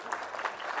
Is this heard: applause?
yes